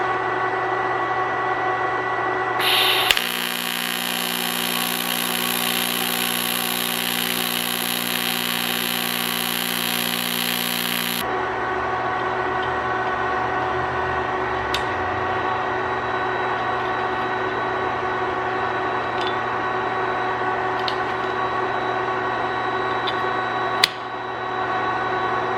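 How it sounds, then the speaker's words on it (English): An electric welder welds a car part with bearings, giving a steady, loud buzzing hum with hiss that lasts about eight seconds, then stops, leaving a quieter workshop drone with a few sharp clicks. "So I'm gonna weld it up."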